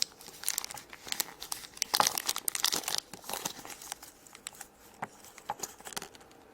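Two crinkly Shopkins surprise blind bag packets are torn open, giving a close, busy run of plastic crinkling, rustling and tearing bursts with short pauses and no talking.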